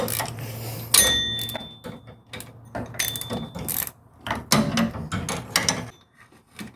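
Bolts being worked loose from the belt tensioner on a 2.0 Honda Civic engine, a run of close mechanical clicks, ratcheting and metallic clatter in bursts, with short pauses between them.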